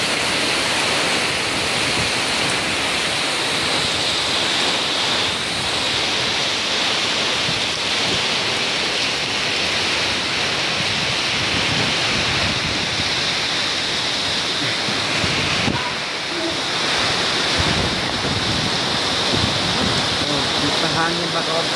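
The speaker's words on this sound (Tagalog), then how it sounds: "Grabe ang lakas po ng bagyo" Strong Typhoon Tino wind and heavy rain roar continuously and loudly in Cebu Province as a dense, unbroken rush of noise, with a person's voice faintly under it.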